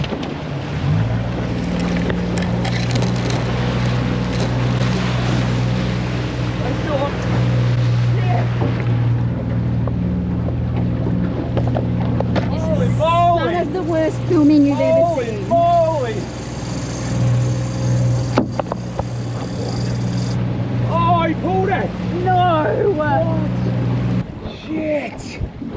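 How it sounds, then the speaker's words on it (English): A motorboat runs steadily at speed on open water, its engine drone loud and constant with wind buffeting and water rush, while excited voices shout over it during a fishing trip. "Do you want me to go faster in the boat?"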